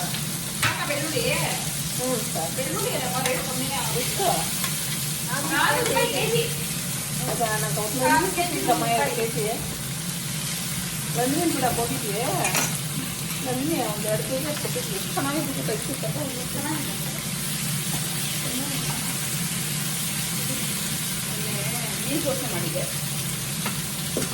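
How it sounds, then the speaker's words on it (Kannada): Tomato bath frying in ghee in a pan while being stirred, a steady sizzle with scraping strokes throughout, with voices talking in the background. "ಟೊಮೆಟೊ ಬಾತ್ ಮಾಡ್ತಾ ಇದ್ದೀನಿ"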